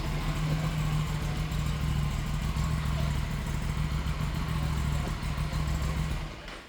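A superbike engine, around 650cc, runs close by in a steady, throbbing idle with a low rumble and light mechanical clatter, holding even for several seconds before cutting off at the end.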